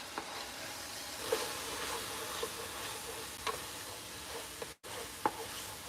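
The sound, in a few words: whisking flour into the pan for beef stroganoff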